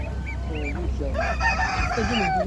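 Geese honk and chickens crow and call in overlapping bursts at an Ankara poultry market, close and busy over a low crowd rumble, with people talking in the background.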